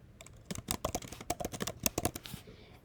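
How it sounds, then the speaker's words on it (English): Typing on a computer keyboard while entering text into a document in Pages, a quick irregular run of crisp key clicks up close, quiet and alone. "You can type your name"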